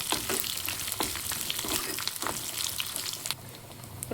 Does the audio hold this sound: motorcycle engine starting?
no